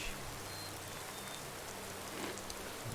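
Steady broadband hiss of rain falling in the Skyrim game world, a continuous even patter with no voices, holding at a constant level throughout.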